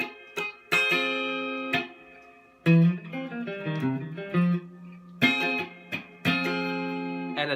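Electric guitar riff moving into another song, played as a series of picked phrases and sustained notes with short pauses between them, close and clear with light effects and no talking.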